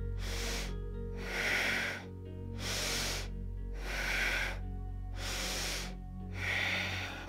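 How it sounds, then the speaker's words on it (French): Slow deep yoga breaths drawn in and pushed out through the nose and mouth, three full rushing cycles close to the microphone over a steady low hum. "3 respirations profondes"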